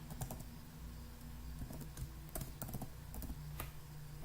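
Fingers tap out a password on a computer keyboard, a quick irregular run of soft plastic key clicks, close and quiet, with no talking.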